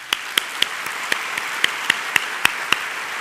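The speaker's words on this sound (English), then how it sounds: "Please join me in another round of applause and appreciation for all of our faculty members" Applause for faculty fills the hall at a university convocation ceremony, a soft wash of many hands with a few sharper nearby claps standing out at a regular pace.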